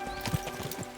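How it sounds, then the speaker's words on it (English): Horse hooves clip-clopping in Kingdom Come: Deliverance II, a quick run of close, moderately loud hoof thuds with a brief louder knock partway through and no talk. "We should spur the horses on."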